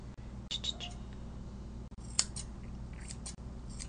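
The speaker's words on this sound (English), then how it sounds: "we're going to fix that in a little bit with the thinning shears" Thinning shears trim fur on a dog's paw with faint, close snips and a few sharp clicks over a low background hum.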